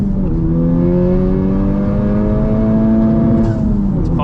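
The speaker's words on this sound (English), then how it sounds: "There goes the second gear grind" Loud engine of a 2020 Honda Civic Type-R under acceleration in second gear, steady harmonic drone rising slightly in pitch across the pull, with a grinding gear edge the picture cannot confirm, no talk.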